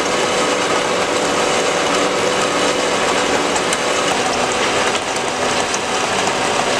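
A bandsaw from a ReDo-All machine runs slowly at 50 RPM with a feed of about seven-eighths of an inch per minute, giving a steady, loud mechanical grinding and whirring with faint ratcheting texture. The sound is continuous and even throughout.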